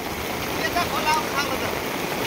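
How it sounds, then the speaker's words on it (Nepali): Floodwater of a risen stream pours past in a constant loud rush, with faint gurgles and a brief murmur of voices over the churning water. "त्यो त खोला बढ्यो त अहिले त"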